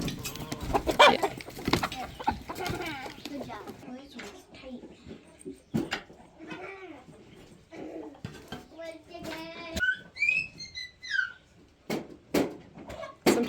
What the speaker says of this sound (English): the chickens will scratch around and eat it up anyways